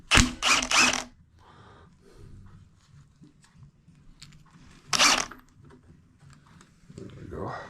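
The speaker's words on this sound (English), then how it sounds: "Just taking off this sump cover here." Metal tools clink and rattle while the sump cover comes off a Yamaha XS650 motorcycle engine, giving a few loud clanks at the start and again midway, with quieter scraping and tapping between them.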